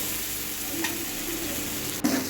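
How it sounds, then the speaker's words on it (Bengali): Chilli, turmeric and coriander powder masala is stirred and fried in a pan for a rui fish and vegetable curry, giving a soft, steady sizzle with one brief scrape of the spatula near the end. "ধনে গুঁড়ো আছে তো মশলাটাকে দিয়ে ভালো করে কষিয়ে নেব"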